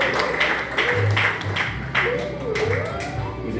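An audience claps at a surprise birthday celebration, the applause a dense, fairly steady patter with voices talking and calling out over it.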